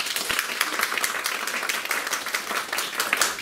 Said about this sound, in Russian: Ваши аплодисменты, Татьяна